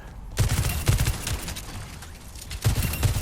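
Sojourn's railgun charge shot firing in the video game Overwatch 2, a sequence of sharp, loud blasts with a strong low thump, two big shots near the start and two more near the end.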